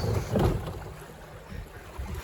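A motorboat running on open water, the hull and engine rumble mixed with wind buffeting the microphone, loudest briefly near the start and then steady, with no talking.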